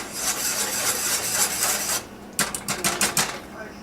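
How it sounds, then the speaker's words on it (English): A spoon stirring habanero jam in a pan, scraping sugar from the sides: a continuous rasping scrape, then a short run of quick separate scrapes, close and fairly loud. "going to stir it once, make sure it's try to get much of the sugars off the side of the pan"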